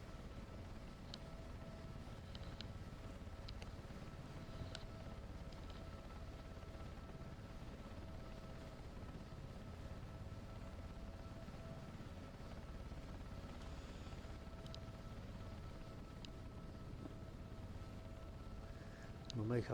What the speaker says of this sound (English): I'm going to slow the helicopter down.